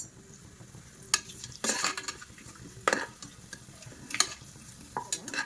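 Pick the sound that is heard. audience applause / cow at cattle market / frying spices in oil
frying spices in oil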